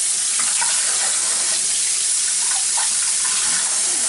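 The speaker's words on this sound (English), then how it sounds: "Cold water, shrink that down." Cold water running from a tap over a Mercedes-Benz W124 rearview mirror during repair, a steady close hiss and splash of flowing water without pause.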